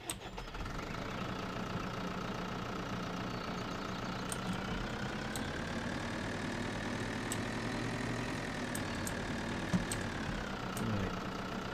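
A small tractor engine idles in Farming Simulator 2013, a steady low mechanical hum with a faint knocking pulse, continuous and unchanging, with a few light clicks over it.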